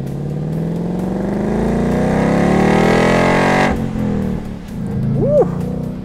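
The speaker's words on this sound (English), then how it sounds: "I'm gonna change the exhaust mode to sport." A 2018 Ford Mustang GT Performance Pack V8 with its exhaust switched to sport mode rumbles loudly and steadily, rising in pitch as it revs, then drops off abruptly with a brief blip near the end.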